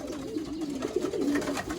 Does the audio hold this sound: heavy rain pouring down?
no